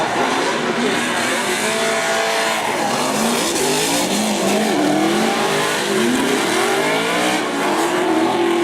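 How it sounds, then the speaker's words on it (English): Cars drifting at a Formula Drift event at Palm Beach International Raceway in 2013 produce sustained tyre squeals over revving engines, with rising and falling engine notes sweeping through and loud, continuous crowd-free track noise. "They were drifting on the line."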